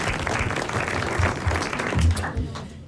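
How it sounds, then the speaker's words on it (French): Studio audience applauding on a 1981 French radio game show, a dense crackle of clapping that holds steady for about three seconds and fades near the end. "Et vous applaudissez Monsieur Nicolas Jacques de Reims."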